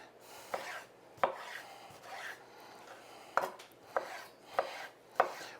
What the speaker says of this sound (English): You don't want your fingertips sticking out when you're cutting.